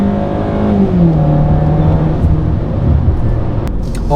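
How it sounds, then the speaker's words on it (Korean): A Hyundai Sonata DN8 LPi car engine revs hard under full throttle, its droning pitch climbing and shifting as the vehicle accelerates, loud and close. "가속을 할 때 풀악셀을 밟으면 아우 시끄러워"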